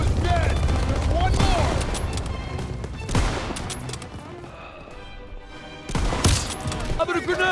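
A scoped Springfield rifle fires in a World War 2 video game, giving sharp, loud cracks at irregular intervals over constant battlefield noise, with a voice talking between the shots.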